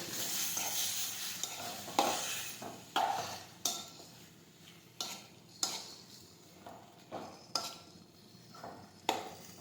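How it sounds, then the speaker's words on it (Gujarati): Chopped tomatoes sauté in a pan with a constant sizzle, while a spoon strikes and scrapes the pan in regular, sharp strokes about every second, close and clear. "હવે આપણે ટમેટા સમારેલા નાખીશું હવે આપણે સાતળી લઈશું"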